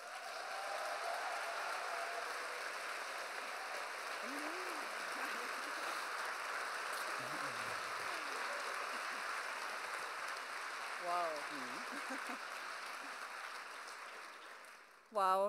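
An audience applauds in the Admiralspalast theatre in Berlin at the premiere of a musical, with steady, fairly soft, far-off clapping and faint voices at times.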